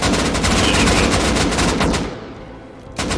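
Rapid automatic gunfire in the video game Rust during a clan base raid, aimed at a turret: loud, close, sustained bursts of shots that thin out briefly before another burst returns.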